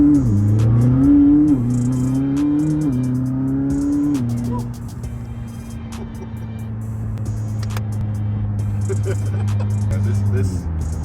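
A McLaren 600LT sports car engine drones loud and close from inside, revving and shifting pitch early then holding a steady cruise, with a person talking over it.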